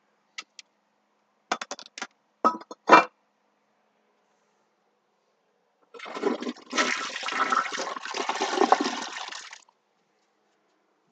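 A few sharp clicks and clunks from the handle are followed by a toilet flushing nearby, water rushing loudly for about four seconds before fading out.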